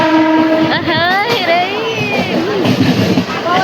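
A passenger train heading to Dadar sounds its horn in long, loud, wavering blasts over a rolling rumble, with people speaking nearby.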